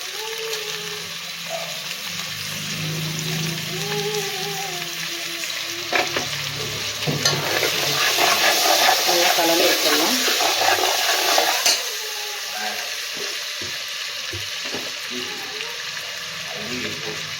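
Tomatoes fry with a steady sizzle in a pan for veg biryani, with scraping stirs that grow busier and louder partway through, then ease back to a constant hiss; a voice murmurs faintly in the background.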